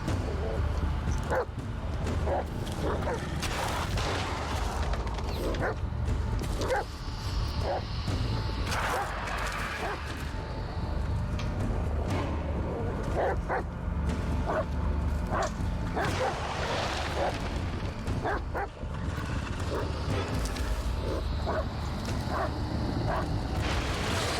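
Dog barking and whimpering in the Blair Witch video game, repeated sharp barks and yips with whines in between, steady and close over a constant dense game soundscape throughout.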